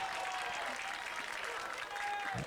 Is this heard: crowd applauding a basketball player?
yes